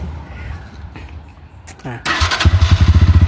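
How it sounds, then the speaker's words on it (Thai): A Honda GR200R motorcycle on its stock exhaust cranks and catches, then settles into a close, rapid, pulsing idle with a moderate exhaust note; a voice speaks briefly before it starts. "เสียงท่อเดิมนะครับ ก็จะไม่ไม่ดังมากครับเป็นเสียงท่อเดิม"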